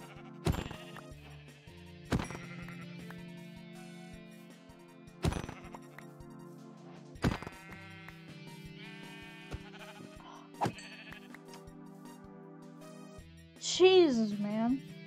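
Sheep bleat in Minecraft, with several short blocky cries spaced across a steady game backdrop and a louder warbling bleat near the end, while a player talks over it.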